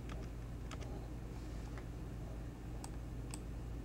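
Someone types on a computer keyboard and clicks a mouse while working in compositing software. Scattered, quick clicks and keystrokes sound close over a constant low hum.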